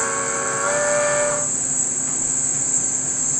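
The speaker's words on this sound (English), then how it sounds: "I'm going to hit the whistle" An American Flyer model steam train sounds its whistle in one steady, fairly loud blast of about a second and a half, then steady running noise carries on without voices.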